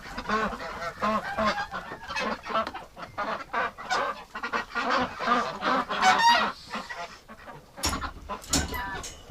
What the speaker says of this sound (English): We got a lot of birds in here this morning.